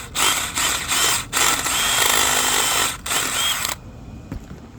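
A power drill enlarges a bolt hole for an oil catch can on a K-series engine, whirring loudly and steadily in close bursts with brief pauses, then stopping abruptly near the end.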